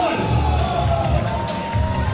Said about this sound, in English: that sounds like a cheer from him for the Scottish team